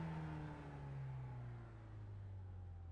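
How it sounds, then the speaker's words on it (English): Car engine droning near the rev limiter, a steady buzzing tone that sags slightly and holds, fairly quiet and alone with no voices. "So rev limiter, steering locked."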